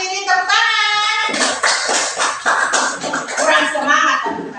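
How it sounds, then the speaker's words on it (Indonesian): Classroom applause from a group of students, a dense burst of many hands clapping that starts after a short spoken call from the teacher and continues steadily, with children's voices mixed in. "Tepuk tangan."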